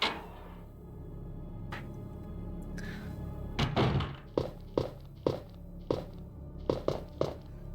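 In Resident Evil 2 (1998), a character forces through a wall, heard as a heavy thud followed by a rhythmic run of sharp, evenly spaced impacts, loud and close against quiet game background.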